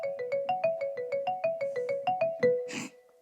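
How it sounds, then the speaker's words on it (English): Marimba voice on a Yamaha CK88 stage keyboard, a quick run of about fourteen evenly spaced wooden mallet-like notes stepping through a short melody, clean and close, ending in a brief noisy burst. "We've got a marimba here."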